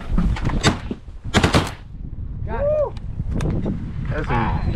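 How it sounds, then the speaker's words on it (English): Shotguns fire during a juvenile duck hunt in Missouri, several sharp close blasts in quick bursts, with hunters talking and calling between shots outdoors. "That's some good shots right there."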